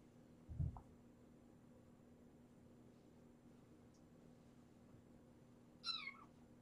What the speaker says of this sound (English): During the trip, Mama meowed a lot, but it was just like little quiet meows